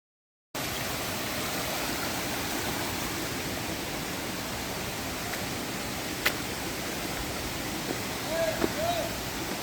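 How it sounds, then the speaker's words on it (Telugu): Rampa waterfalls at Rampachodavaram give a steady broadband roar of falling water that starts after a brief silence and continues evenly, with a faint short whistle-like tone near the end. "ఇదే రంప వాటర్ ఫాల్స్."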